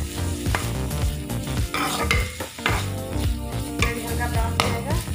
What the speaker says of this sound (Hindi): इस तरह से चला के इसको लाल होने तक भून लेंगे